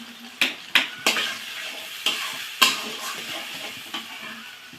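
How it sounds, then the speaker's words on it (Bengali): Spiced masala for a fried meat dish is stirred and fried in a pan with a little water, steady sizzling broken by several sharp scrapes and knocks of the spoon against the pan. "এবার আমি মশলাটা সুন্দর করে কষিয়ে নেব।"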